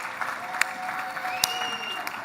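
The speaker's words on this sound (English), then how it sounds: "So I would love to give him a very rumbling applause to come up on stage with hands like this." A conference audience at a 2023 tech event in Canada applauds as a speaker comes up on stage, giving a brisk, even patter of many hands with a few sharper claps standing out, steady throughout.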